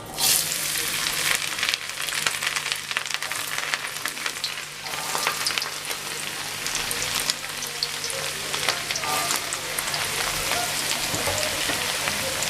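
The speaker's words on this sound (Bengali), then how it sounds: "প্রথমে আমি তেলের মধ্যে গাজরটা দিয়ে দেব।" Carrots sizzle and crackle in hot oil for egg chow mein, a steady dense frying hiss with scattered pops and a few stirring scrapes, close and continuous with no talking.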